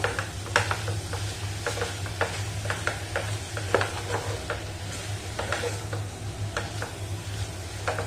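A spoon scrapes and stirs banana filling with melting jaggery in a hot pan. Soft sizzling runs underneath as irregular scraping clicks repeat close by over a steady low hum.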